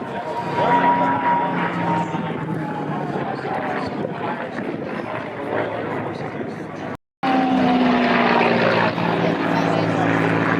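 A P-51 Mustang propeller fighter flies at the Thunder Over New Hampshire air show, its loud, steady engine drone with shifting pitch continuing throughout, briefly cut off once, while an announcer's voice runs underneath.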